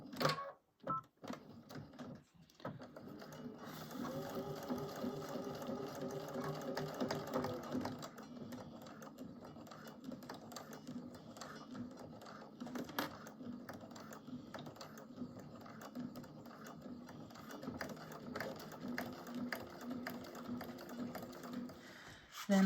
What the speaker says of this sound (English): And I'm going to sew this together at a 1/4 inch seam allowance.